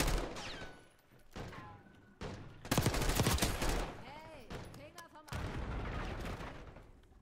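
Call of Duty Black Ops 6 firefight with bursts of automatic gunfire and heavy shots, loudest in a dense volley around the middle, then scattered shots and a renewed barrage, with voices in between.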